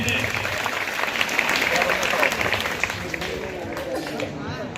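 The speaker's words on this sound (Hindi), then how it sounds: "तालियां एक बार जोर से।" A crowd at an intermediate college's Gandhi Jayanti school event claps continuously, a dense wash of applause with voices and chatter mixed throughout.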